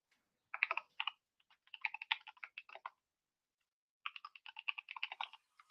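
Clicky computer keyboard being typed on in quick bursts of crisp keystrokes, with pauses between runs, fairly close and alone without speech.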